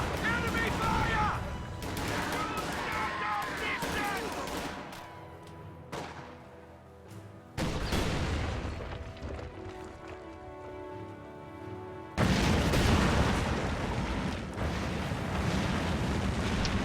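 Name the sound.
gunfire and artillery explosions in a war video game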